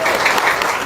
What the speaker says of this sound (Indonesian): Tepuk tangan yang kenceng